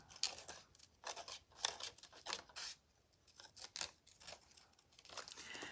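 Scissors snip through patterned designer card paper in a quiet craft setting, a series of crisp, close cuts in irregular bursts with brief pauses between them.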